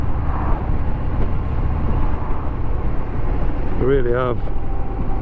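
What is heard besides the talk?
Harley-Davidson Sport Glide 107 big V-twin motorcycle engine riding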